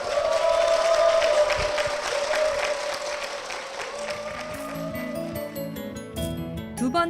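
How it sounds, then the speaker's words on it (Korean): A church audience gives hearty applause as a blessing for two deacons, dense clapping sustained throughout and easing slightly toward the end as other sounds creep in. "우리 집사님 두 분께 힘찬 축복의 박수 부탁드리겠습니다"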